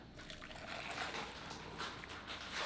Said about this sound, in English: So we're pouring in our water.